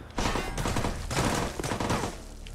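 Dense bursts of rapid gunfire sound in a VR shooter match, loud, near and continuous in clustered volleys for a couple of seconds.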